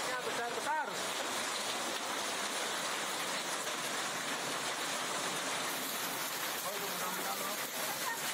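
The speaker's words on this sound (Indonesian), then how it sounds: "hujan yang turun berupa es juga membuat warga terkejut" Dense, steady pattering of hard hailstones falling and striking surfaces in Tista village, Bali, a constant hiss with a brief sharper burst near the start.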